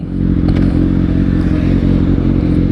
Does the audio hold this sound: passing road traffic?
yes